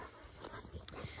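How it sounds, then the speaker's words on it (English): Dogs jumping up at a person in a goat barn, a short burst of soft whimpering and scuffling close by over a muffled noisy background. "I'm getting jumped on by the dogs."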